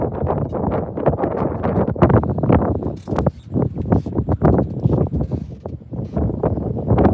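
Gusty wind buffets the microphone near the mainland shore while saltwater fishing, a loud rough rumble surging and dropping in uneven bursts.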